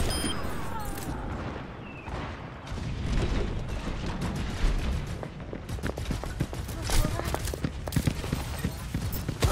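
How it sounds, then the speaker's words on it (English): A rocket barrage fires in Overwatch 2. Rapid volleys of sharp, crackling blasts pile up in a dense, uneven burst that grows busier toward the end over ongoing match noise. "Rocket barrage incoming."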